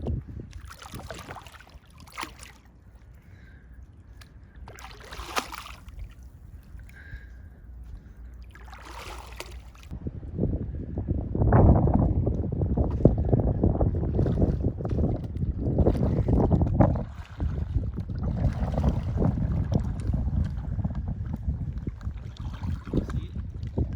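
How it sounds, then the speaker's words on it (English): Wind gusting across open water in mangroves while kayaking, a steady low rumble of wind buffeting the microphone that grows louder partway through, with faint paddle and water sounds and brief bits of speech. "wind keeps turning me"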